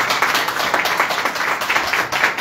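An audience applauds a newspaper editor at a political talk event in Balassagyarmat, steady crowd clapping with individual claps standing out, moderately loud and continuous.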